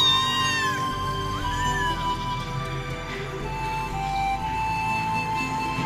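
A feral mother cat and her two kittens meow near a home, with several clear, rising-and-falling meows close by, some high-pitched and thin, over a faint steady background.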